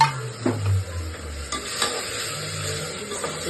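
Ground Byadgi chilli paste frying in oil in a pan, a steady soft sizzle with a stirring scrape and a few light clinks near the start, no talking.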